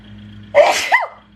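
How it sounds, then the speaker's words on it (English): A single sharp sneeze close by, a sudden burst followed by a short trailing sound. "Apologies. Sneeze for confirmation."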